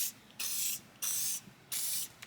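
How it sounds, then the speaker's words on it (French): PB Blaster penetrating oil sprayed onto suspension bolts during a vehicle restoration: three short, sharp aerosol bursts of hissing spray, each under half a second, close and fairly loud with brief pauses between. "Un petit coup de PB Blaster ou équivalent"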